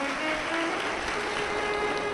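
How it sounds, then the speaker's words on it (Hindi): A crowd at a Shiv Mahapuran religious discourse claps for the administration, with dense, steady applause throughout. "एक बार पूरी प्रशासन के लिए जोरदार ताली बजाकर साधु।"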